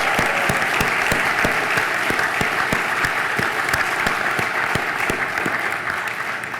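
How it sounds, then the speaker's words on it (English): Applause from an audience at a Goodwill Industries of Greater Detroit event with Governor Rick Snyder, dense steady clapping with sharp individual claps standing out, loud and close throughout, easing slightly at the end. "let's give them a big shout out and a round of applause"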